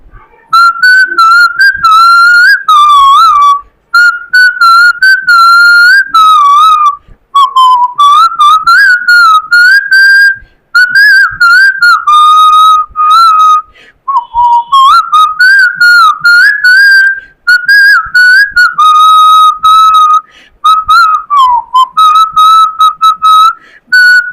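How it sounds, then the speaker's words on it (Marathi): A person whistles a song melody, clear, loud and close, in long phrases separated by brief breaths, alone without other sounds. "मी शिट्टीमधून गाणं म्हणून दाखवणार"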